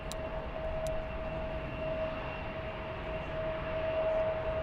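An Air Canada Boeing 787-8 Dreamliner takes off at Frankfurt Airport, a steady distant jet roar with a thin constant whine running throughout, broad and even in loudness.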